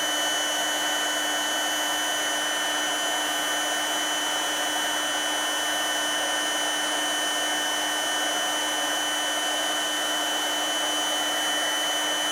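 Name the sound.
350 watt heat gun blowing hot air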